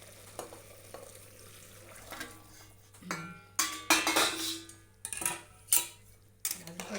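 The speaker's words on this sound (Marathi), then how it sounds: "गरम पाणी ह्यात टाकून देते मी आता हे बघा पाणी टाकूया ह्याच्यामध्ये" Hot water is poured into a pot of village-style mutton curry, setting off bursts of sizzling and splashing mixed with clinks of a utensil against the pot, close and intermittent.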